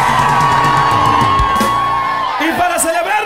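A live audience at a norteño concert at Flamingos in Stockton shouts, yells and whoops loudly and continuously, a dense crowd roar filling the whole stretch.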